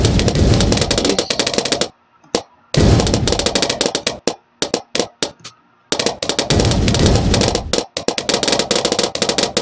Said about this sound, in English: Why are you firing there?